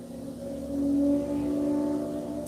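A loud motorbike passes outside and swells into a brief rising and falling engine roar.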